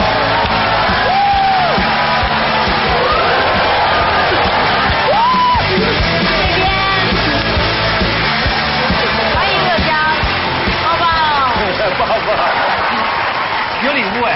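Studio audience on a Chinese talk show applauding and cheering as a guest is welcomed on stage, a dense, steady wash of clapping with whoops and yells running loud for the whole stretch, with music and voices mixed in.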